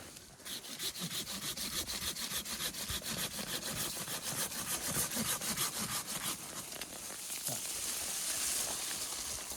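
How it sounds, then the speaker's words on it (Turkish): A hand saw cuts through a large cherry tree branch during pruning, with fast rhythmic rasping strokes heard close and steady throughout. "Bir tane büyük dal kestim."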